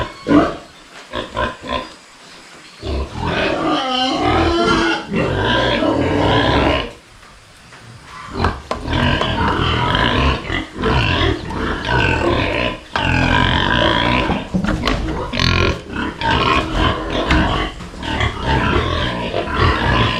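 Pigs on a farm, sows and a boar, grunting and oinking loudly up close in dense overlapping bursts, with a short lull before the noisy grunting resumes and carries on to the end.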